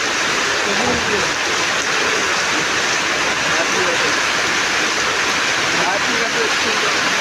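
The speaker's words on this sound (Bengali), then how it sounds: "বৃষ্টির জলগুলো পড়ছে পুকুরে।" Loud, dense rush of water like heavy rain pouring onto open water, a continuous hiss with no pauses.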